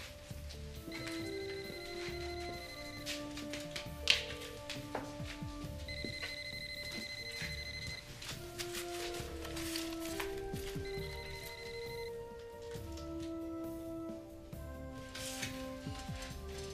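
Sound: cell phone ringing

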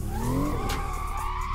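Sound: BMW M2 drifting with tire squeal in video game Assetto Corsa

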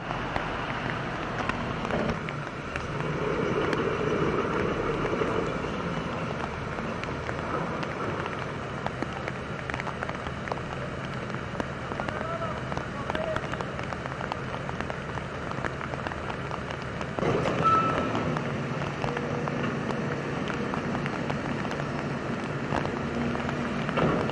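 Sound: heavy rain shower

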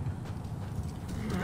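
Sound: horse galloping in Assassin's Creed Origins video game

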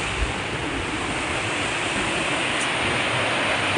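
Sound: waterfall in Japan

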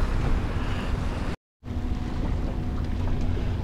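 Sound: big boat passing with waves

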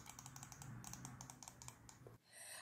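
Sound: Dell computer mouse clicking

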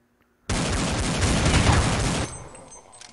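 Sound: gunfire in the video game Counter-Strike 1.6

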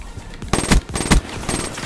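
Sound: gunfire in Call of Duty Black Ops 3 video game

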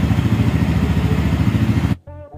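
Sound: Bajaj Pulsar N160 motorcycle engine running

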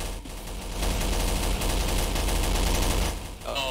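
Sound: machine gun gunfire in Garry's Mod Zombie Survival video game

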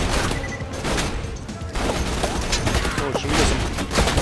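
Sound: gunfire in video game Borderlands 2

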